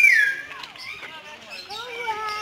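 Shrill, sliding squawks and whistles of parrots at Guwahati zoo call back and forth, close and fairly loud, in a short burst.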